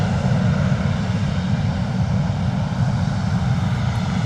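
Embraer jet in a snow-white livery at London Stansted Airport, a steady, fairly loud engine roar heavy in low rumble, with no talking.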